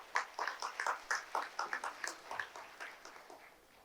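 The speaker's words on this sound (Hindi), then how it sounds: "आप सभी से आग्रह है कि जोरदार तालियों से सर का स्वागत करें" An audience at a Hindi Diwas university ceremony claps to welcome a guest. The clapping is fairly faint and loosely rhythmic, with distinct individual claps that thin out toward the end.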